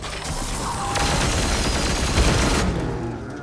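Grey Knights open fire in Warhammer 40K Chaos Gate Daemonhunters, a loud, continuous volley of rapid gunshots that holds steady for about three seconds and then cuts off abruptly.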